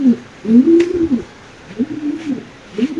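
Soft, low coos from Lahori pigeons repeat in short rolling phrases, close by, with brief pauses between calls.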